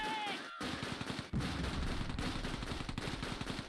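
Rockets firing in the Close Combat II war game, a few sharp bursts followed by a rapid crackling rattle of blasts at moderate loudness.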